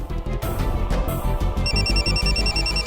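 An electronic phone ringtone chirps in a repeating high pattern over loud, steady background music with a thumping beat.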